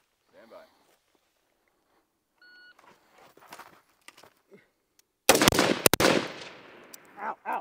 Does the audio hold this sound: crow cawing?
no